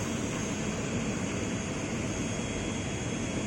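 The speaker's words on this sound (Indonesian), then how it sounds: "Ini 777 baru landing dari Jeddah" A Boeing 777-300ER airliner sits at the airport in Aceh just after landing on a hajj flight from Jeddah, its jet engines giving a steady, loud, unbroken roar throughout.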